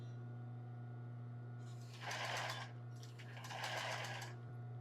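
A sewing machine stitching an embroidered tulle bra, two short bursts of rapid stitching over a constant low motor hum.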